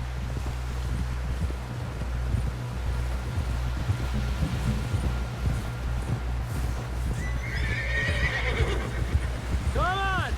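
A horse in Red Dead Redemption 2 gallops with steady, rapid hoofbeats over rushing wind, then lets out a loud whinny near the end; a voice speaks briefly over the galloping.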